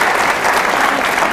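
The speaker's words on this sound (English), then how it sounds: "I think we should give her another round of applause" Loud, dense applause from an audience honoring a presenter who rocked the house, a steady wash of clapping filling the whole moment without a break.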